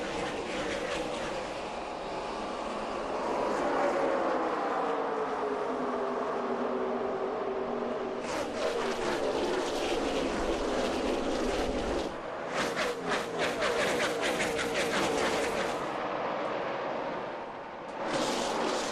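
NASCAR stock cars at the start of the 2010 Southern 500 race, a loud continuous roar of many engines with Doppler sweeps and rising, falling whines as the field passes, under crowd and broadcast ambience.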